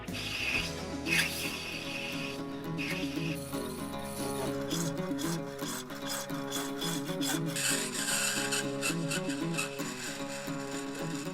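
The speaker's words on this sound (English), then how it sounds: "Give it a little knurl so your hands don't slip when you grab it." A metal gas tank cap for a custom chopper is knurled, producing a continuous grinding, rasping scrape with irregular ratcheting bursts, close up and without speech.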